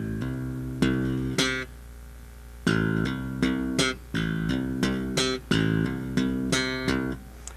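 Bass guitar picks out sixteenth-note figures, thumb-slapped notes moving from an open A and hammered onto C with octave jumps, in a tight, even rhythm. The notes are loud, close and clean, with no talking.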